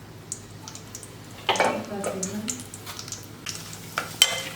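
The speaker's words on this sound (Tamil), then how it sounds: "நல்லா பொரிய ஆரம்பிச்சிருச்சு" Whole spices including star anise and stone flower frying in oil for a Chettinad jackfruit gravy, a soft close sizzle with scraping stirs and small crackles, a voice talking over it.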